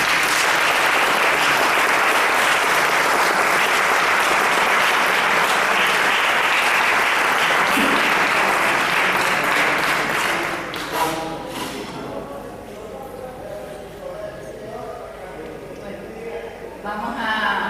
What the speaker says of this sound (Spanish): Vamos a darle otro aplauso a Roberto por la brevedad.